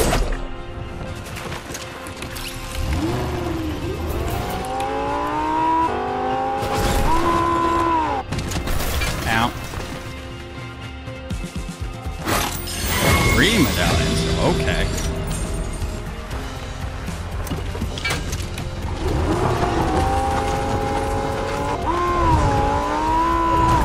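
A car driving in Fortnite, engine revving up and down with rising and falling pitch, impacts and crashes midway, under continuous talk from players.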